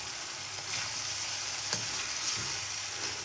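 Tinda (round gourd) frying in a pan over a medium flame with sprinkled masala being stirred in: a steady, close, broad sizzle with faint stirring movements and no voices.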